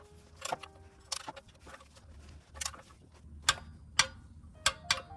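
A torque wrench clicks repeatedly while a new oil drain plug is tightened to about 29 on a Toyota Camry/RAV4 with the 2AR-FE engine: a series of sharp, close metallic clicks at irregular intervals.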